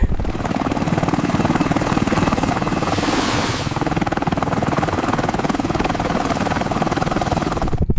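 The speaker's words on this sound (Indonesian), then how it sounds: "ada helikopter yang mau mendarat" A landing helicopter roars loudly and continuously overhead, its rotor chopping in a rapid steady pulse throughout, with brief whooshing as it nears.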